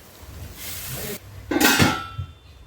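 A lid being set over a hot pan of bottle gourd, making two bursts of metallic clatter and sizzle, the second louder, each followed by a short quiet stretch and a soft clunk.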